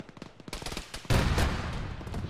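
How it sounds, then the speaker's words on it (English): Cannon fire in a military combat game, a sudden loud blast that follows a rapid stutter of distant gunfire, then a sustained roaring rumble, close and heavy. "Some sort of cannon's engaging too."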